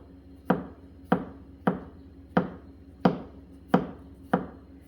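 Knife chopping through a thick, hard root vegetable such as burdock, Korean pencil-shaving cut, seven sharp board thuds at a steady rhythm about every half second, close and clear, no talking.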